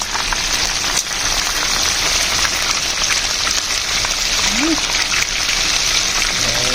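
Chicken wings fry in hot grease, a loud, steady crackle and sizzle that holds unbroken throughout with a brief voice sound in the middle.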